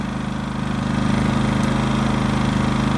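A new Predator 5000 watt dual-fuel generator engine runs steadily after startup, a loud, close, continuous droning rumble with an even pulsing beat and no pauses.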